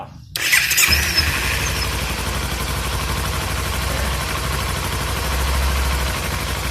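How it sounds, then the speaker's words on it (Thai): A Kawasaki Z300 motorcycle engine cranks and fires up abruptly in neutral, then settles into a steady, rumbling idle close by. "อ่าอยู่ตำแหน่งเกียร์ว่างครูจะติดเครื่องแล้ว"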